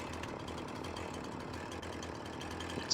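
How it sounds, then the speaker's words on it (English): A chainsaw in Farming Simulator 19 runs steadily during a logging session, a continuous buzzing drone held at an even level throughout with no voices over it. "Let's go, Mr. Chainsaw."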